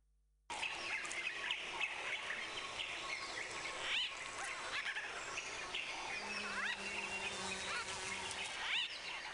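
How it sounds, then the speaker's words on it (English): Many birds in a lush green habitat chirp and sing different songs all at once, a dense, continuous chorus of overlapping calls and trills at moderate distance. "A melee of chirping birds singing dissimilar songs in one big and luxuriantly green habitat."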